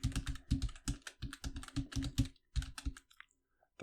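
Typing on a computer keyboard while entering an email address, a steady run of close, crisp key clicks in quick bursts, then a pause with a couple of faint taps.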